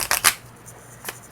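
A tarot card deck being shuffled quickly, two close riffling bursts of cards in the first half second, then a quiet pause and one brief final flick, with no talking.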